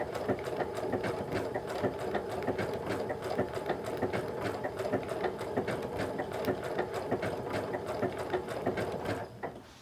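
Sewing machine stitching around a fusible applique piece on a quilt, a steady close mechanical whir with rapid rhythmic needle clatter that runs continuously and slows to a stop at the end, no talking.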